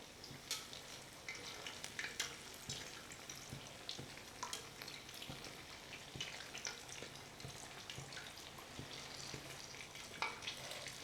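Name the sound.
empanadas with cheese filling frying in a pan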